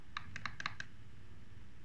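Half a dozen light, quick mouse clicks sound close but faint while someone tries to select seats on a ticket-buying website for a U23 Asian Championship football match, Thailand vs Saudi Arabia, over a quiet room hum.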